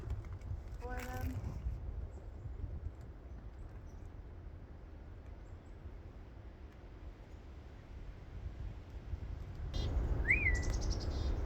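Wild chickadees chirp outdoors near a bird feeder, with a short burst of bright chirps early on and another brief call near the end over a steady outdoor background.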